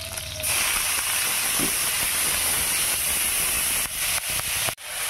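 Taro stems go into a hot pan with oil, five-spice seeds and green chilies and fry with a loud, steady, close sizzling hiss that holds for several seconds before breaking up and dipping near the end.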